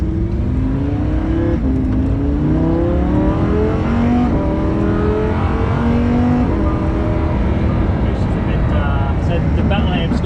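A Lamborghini Huracan engine revs and accelerates through gear changes, rising tones climbing repeatedly under constant road and cabin noise, heard from inside the car with people talking over it.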